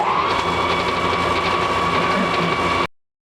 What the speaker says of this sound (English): we're going to kick it into a really low gear, and we're going to just skim it